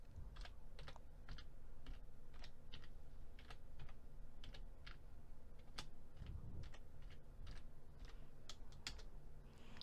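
Computer keyboard keys are pressed in scattered quick taps and short bursts, including Enter and Ctrl+V, close and crisp against quiet room noise, with no talk.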